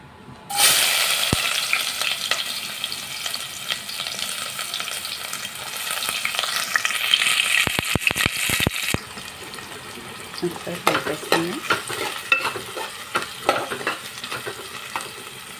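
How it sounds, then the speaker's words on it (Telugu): Chopped onions and green chillies fry in hot oil for an okra curry, with a loud, steady sizzle that turns more broken as clattering stirs and scrapes come through partway. "ఇక్కడ ఆనియన్స్ పచ్చిమిర్చి కట్ చేసి పెట్టాను ఇప్పుడు అందులో వేయించి వేసేసుకున్నాం"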